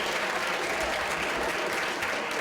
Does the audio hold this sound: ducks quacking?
no